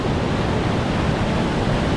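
Steady, dense rush of falling water from a double waterfall split by a rock spine along a Washington trail, a broad continuous roar heard up close with no voices.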